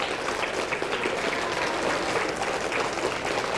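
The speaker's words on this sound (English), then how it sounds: "And clap." Dense, steady clapping from a school audience at a morning reading show at Norwood School, a broad even wash of applause that stays loud and continuous throughout.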